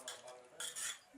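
A spoon scrapes and clinks softly against a pot as masala gets mixed into chicken for a home-made biryani, a few quiet stirring strokes with no voices.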